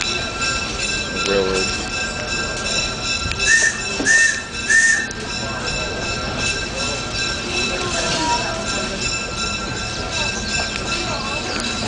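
A 2.25-mile-long train rolls past with continuous rumbling and clattering of wheels on rails, a few short whistle-like tones rising above the steady noise.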